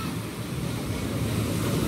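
Rough, heavy surf pounding the beach at Champerico, Guatemala, a steady loud roar of crashing waves with wind noise buffeting the microphone throughout.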